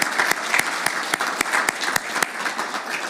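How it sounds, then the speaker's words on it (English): An audience at an innovation conference dinner claps in a dense burst of applause, many hands at once, with a few sharper individual claps standing out and a steady, fairly loud level throughout. "huge round of applause for all of you being here"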